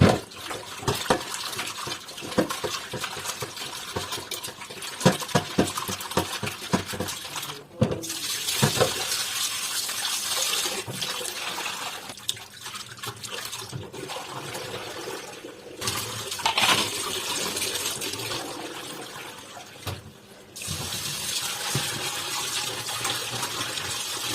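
Cleaned fish that were soaked in salt and tamarind water are washed by hand, with steady splashing, sloshing and trickling water mixed with clinks and knocks, close by and continuous without talk.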